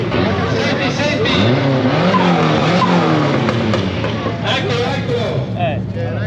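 Formula-style race car at a driving event in an industrial zone, loud tyre squeal and engine sound sweeping across as it returns to the track, with excited talk over it throughout.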